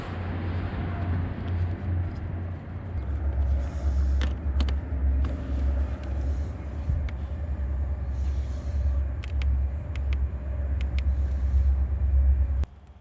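A Rocgorld R8 portable 12-volt air pump inflates a tire with a deep, steady droning rumble close by, running continuously with faint clicks and ticks over it and stopping abruptly at the end.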